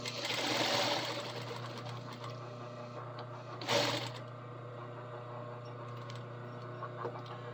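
An industrial sewing machine stitches a seam down the middle of a folded belt loop. A steady mechanical whir with a strong hum starts loudly, then keeps running more quietly with one brief louder burst midway.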